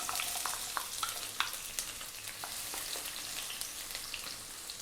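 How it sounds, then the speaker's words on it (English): Chopped onion sizzling in hot sunflower oil in a wok, a steady close hiss with scattered pops and crackles throughout, no talk. "We're going to drop in our onion."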